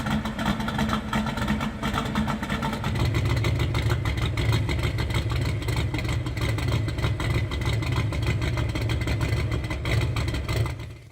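A turbocharged Mustang idles through a custom fender-exit exhaust, with a close, steady low rumble that steps up to a louder, deeper drone after a few seconds and then holds evenly, with no voices.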